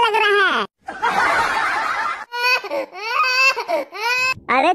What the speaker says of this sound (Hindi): पापा ये तो किसी बच्चे की आवाज लग रही है।